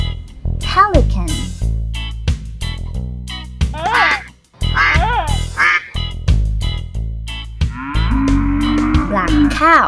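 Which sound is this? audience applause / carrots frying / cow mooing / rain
cow mooing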